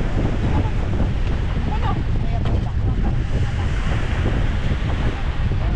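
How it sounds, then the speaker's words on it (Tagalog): Sea waves surging at the shore with steady wind buffeting the microphone, a loud continuous roar of surf that fills the whole stretch. "Malaki na yung dagat."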